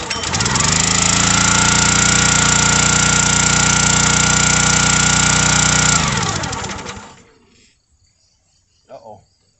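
A log splitter's small gasoline engine catches and runs at a loud, steady high-revving drone for about six seconds, then sputters and dies away into near silence, followed by a brief faint noise.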